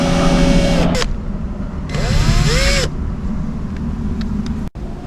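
A power drill whirs up close in short bursts, pitch rising and falling as it drives a screw, with brief pauses between runs.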